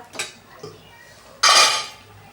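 Plates being laid out for a fasting-day thali with dhapata and dosa, with a couple of light clinks followed by a louder, ringing clatter of dishes and cutlery close by.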